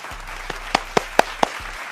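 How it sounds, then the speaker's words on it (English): Clapping sound effect inserted into a podcast segment, a short run of about five evenly spaced, sharp claps over a faint low hum. "I'm gonna insert some clapping noises here."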